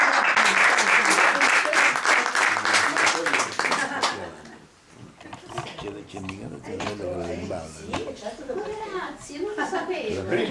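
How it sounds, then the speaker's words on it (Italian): Audience applause at a book event in Rome, loud and dense at first, then thinning into scattered claps beneath voices talking over it. "Però le voglio un altro applauso"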